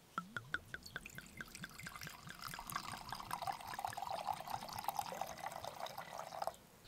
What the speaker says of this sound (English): to see me pour it into a metal cup ain't good enough